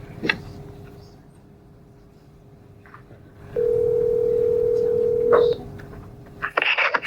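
A steady telephone dial tone hums for about two seconds during a connection of a caller over the phone at a park district board meeting, with soft room noise and faint talk around it.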